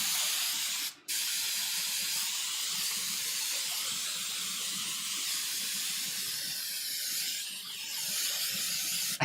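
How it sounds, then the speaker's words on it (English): Hairspray from an aerosol can sprays onto a medieval-style wig in a long, loud, steady hiss, broken by one brief pause near the start, with no talking. "You just get a little hairspray."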